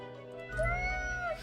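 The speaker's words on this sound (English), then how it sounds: "Meow, the cat admits" A cat in the video game Death and Taxes lets out a single drawn-out, clear meow that rises and holds before tapering off, with a low hum underneath.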